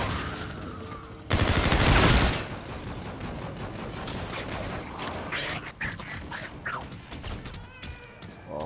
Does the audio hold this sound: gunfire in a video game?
yes